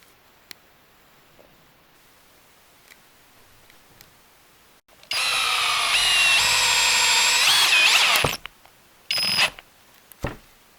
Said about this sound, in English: see if this drill can drill a 3-inch screw into that same piece of timber